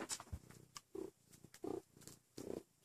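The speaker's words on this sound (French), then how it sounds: "Félix, on entend ronronner." A cat purrs up close, quiet and rhythmic, each rumbling breath swelling and fading in a steady cycle.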